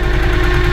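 A loose RPM speedometer cable rattles on a Honda Ascot motorcycle idling after a dozen years of disuse: a loud, steady buzzing drone with a fast, even chattering vibration riding on the engine throughout.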